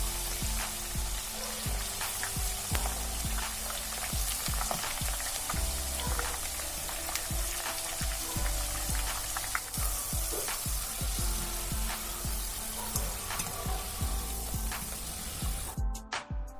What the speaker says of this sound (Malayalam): ഇനി ഇതിലോട്ട് നമുക്ക് ഓരോരോ സ്ലൈസായിട്ട് വേണം ഇട്ട് കൊടുക്കാൻ. എന്നിട്ട് നല്ലപോലെ ഒന്ന് ഫ്രൈ ചെയ്തെടുക്കാം.